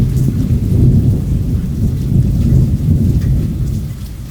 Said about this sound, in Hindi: उसकी वजह से बारिश हो रही है बहुत तेज़ मूसलाधार